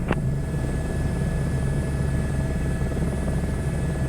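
An Airbus helicopter in Microsoft Flight Simulator 2024 drones steadily with a constant rotor and turbine hum, loud and unbroken, with a short click at the start and no talk.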